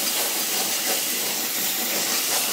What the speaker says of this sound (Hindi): देखिए टमाटर भी भुन चला है